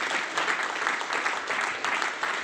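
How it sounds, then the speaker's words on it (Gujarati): An audience applauds a guest speaker at an indoor gathering, giving dense, steady clapping throughout with no talk over it. "તો એમના માટે જોરદાર તાળી થઈ ગયા"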